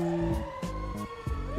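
A fire engine siren blares in the GTA video game, with loud, steady wailing tones and a rhythmic pulse and honk pattern, close and alone without talk.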